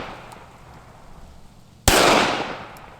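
A single sharp, loud shot from a Ruger LCP II pistol at an outdoor range, cracking suddenly after a quiet stretch and trailing off in a long fading echo.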